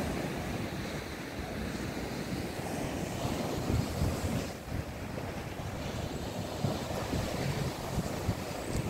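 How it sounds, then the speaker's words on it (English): Ocean waves wash onto a seafront beach in Essex, a soft, steady surf rush heard from a short distance, with a breezy hiss throughout and no one talking. "Just listen to this calming sound of the waves."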